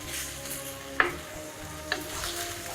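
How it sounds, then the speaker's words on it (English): Beef chunks sear in a pan with a soft, steady sizzle, punctuated by two brief sharp clinks of a utensil against the pan. "So the first part is actually searing the meat"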